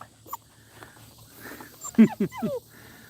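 Puppies and an old dog of about fifteen are in a pen. Faint sniffs and shuffling give way to a short burst of high whimpers and yips near the end, close by.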